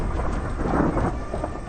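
Thunderstorm with heavy rain and a low roll of thunder, a dense continuous wash of rainfall with a swelling rumble, standing alone as a horror story sound effect.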